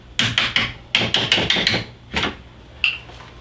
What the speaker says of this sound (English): with a hammer, we will tap that pin that holds the hinge together out